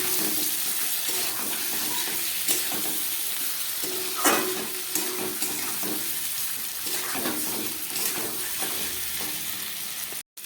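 A spice mix of cumin, ginger, dried chili and black pepper fries in a pan for a potato and paneer vegetarian dish, with a steady sizzle and occasional scrapes of stirring throughout.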